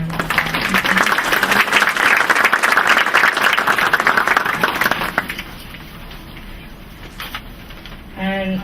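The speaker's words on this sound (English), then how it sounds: "we can give her a nice little round of applause" Audience at an evening school board meeting gives a round of applause, dense clapping for about five seconds that then fades to scattered claps and room murmur.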